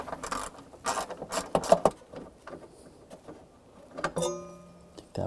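A 13mm socket wrench backs out bolts on the battery bar of a 2009–2010 BMW 535i xDrive: scattered metallic clicks and ratcheting bursts, close by, with brief clanks between them.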